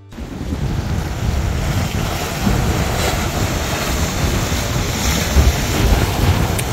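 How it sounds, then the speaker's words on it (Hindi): Strong sea waves crash continuously along the coast at Umm al Quwain in high wind before a storm, a loud roaring surf mixed with heavy wind buffeting the microphone, with no one talking. "ऑलरेडी हवाएं तेज हैं और समंदर में तेजी और वेव जोर जोर से टकरा रही हैं"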